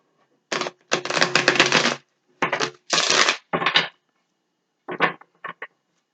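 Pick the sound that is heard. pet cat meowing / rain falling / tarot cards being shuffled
tarot cards being shuffled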